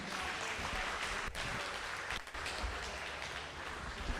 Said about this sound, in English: Give these archers a great big hand.